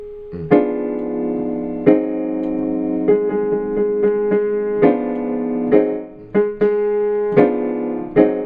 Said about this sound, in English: So what I'm going to do is give you a very common chord progression